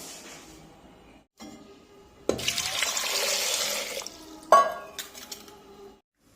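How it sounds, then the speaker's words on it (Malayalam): Water is poured over koorka (Chinese potato) tubers in a pressure cooker, a close splashing stream lasting a couple of seconds after quiet clinks, then a sharper splash and fading trickle. "ഇതിലേക്ക് പരക്ക വെള്ളം ഒഴിച്ച് കുക്കർ അടച്ചു വെച്ച്"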